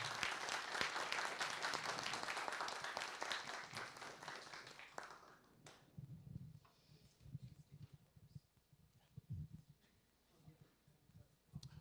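Applause from attendees at a scientific workshop on mitochondria and stem cells, strong clapping for about five seconds that fades out, leaving quiet room rustle and a few soft thumps.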